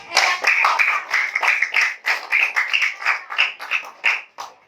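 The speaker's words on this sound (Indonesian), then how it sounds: "Nah, siap, tepuk tangan dulu buat" A school class of children claps hands after a story lesson, a fast run of sharp, close claps in uneven bursts lasting several seconds.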